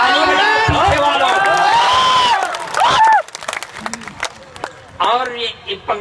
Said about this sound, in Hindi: ताली बजाएं पीछे वालों